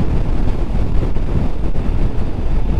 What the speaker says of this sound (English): quite a windy day today